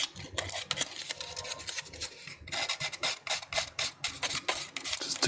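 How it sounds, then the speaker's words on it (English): Sandpaper rubbing by hand on a plastic model kit part (NZ-666 Kshatriya): quick rhythmic rasping strokes, close and distinct, repeating across the whole stretch. "I need to break out my normal sandpaper for this."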